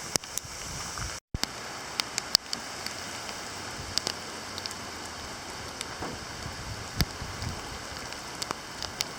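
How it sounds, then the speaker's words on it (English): Small hail mixed with wintry precipitation falls outdoors amid gusty winds, making a steady soft patter with scattered sharp ticks of pellets hitting surfaces, fairly quiet and continuous. "So that's become some kind of wintry precipitation hail hybrid."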